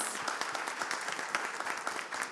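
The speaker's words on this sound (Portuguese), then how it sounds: "eu queria uma salva de palmas para a Vanessa" Audience applause at a business event on transport companies' practices, a steady patter of many hands clapping continuously at moderate distance with no talking over it.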